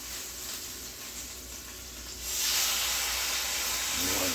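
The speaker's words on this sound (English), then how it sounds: "I got the oil in here, and you're just going to sear it" Pork tenderloin sears in hot oil over medium-high heat, giving a steady, close hissing sizzle that swells noticeably louder partway through as the meat settles into the pan.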